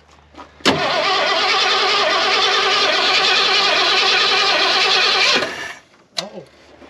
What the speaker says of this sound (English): let's turn it over and see if that carburetor will take a hold